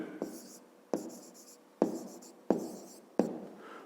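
Pen strokes scratching across paper during a 5th-grade math exercise, in five separate bursts, each starting with a sharp tap and trailing off, close and fairly quiet with no talking.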